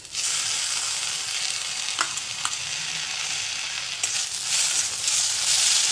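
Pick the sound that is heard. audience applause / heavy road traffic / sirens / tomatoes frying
tomatoes frying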